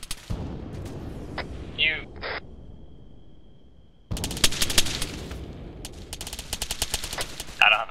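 Gunfire and explosions in the military shooter game Arma 3, with dense bursts of rapid shots and heavy booms, quieter for a stretch then intensifying, under a player talking.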